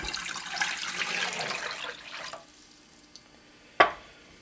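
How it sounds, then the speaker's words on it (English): Water pours steadily into a pot over a cup of pumpkin seeds, a broad splashing rush for about two seconds that then stops, followed by a faint tap and one sharp clunk. "So I have about a cup of pumpkin seeds, so I'm putting in 4 cups of water."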